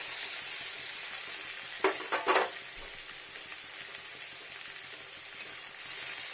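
Garlic and ginger sizzle steadily in hot oil with frying onion in a pan, a dense, even hiss broken once by a couple of brief scraping stirs.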